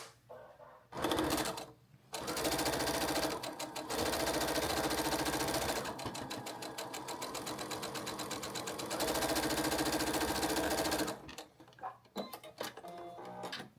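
A sewing machine stitches a quilt 4-patch block, running in steady whirring bursts with a rapid mechanical ticking, starting and stopping between short pauses, close and fairly loud.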